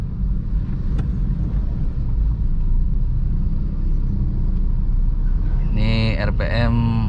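A Honda Mobilio engine hums low and steady at low RPM from inside the cabin, a continuous rumble with someone speaking over it.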